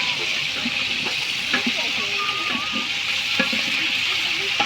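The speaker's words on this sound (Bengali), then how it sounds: "এখন নাড়া দেন ভালো করে নাড়া" Food sizzles steadily in a pot while it is stirred during outdoor picnic cooking, with scraping strokes under a constant frying hiss and faint voices in the background.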